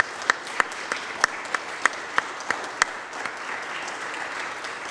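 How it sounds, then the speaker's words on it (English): At an Eagle Scout ceremony, an audience gives a sustained round of applause for award recipients, a close, sharp clap standing out at a regular beat over the broad wash of the crowd. "Everyone, please join me in offering a round of applause to recognize all of these individuals"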